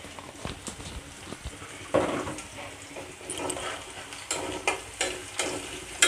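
Onion, garlic and turmeric frying in a pan, a soft continuous sizzle with irregular spoon scrapes and taps that grow more frequent toward the end, with no voices.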